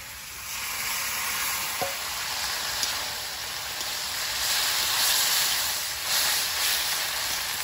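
Boiled dal poured into a pan of sizzling turmeric-spiced mixed vegetables, giving a steady loud frying hiss throughout with a brief splash early on.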